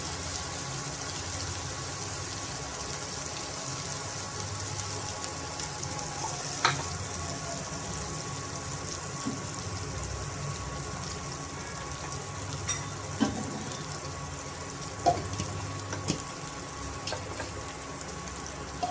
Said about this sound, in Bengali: মশলাটাকে সুন্দর করে ভেজে নেব